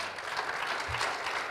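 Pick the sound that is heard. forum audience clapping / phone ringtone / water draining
forum audience clapping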